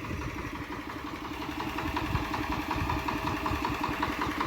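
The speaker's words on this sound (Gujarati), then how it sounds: "એ આપણું આવડું આ મિની ટ્રેક્ટર, એટલે જ આપણે આ રાખ્યું છે ભાઈ" A small tractor engine idles steadily nearby, a low chugging rumble with a constant mechanical throb throughout, no speech.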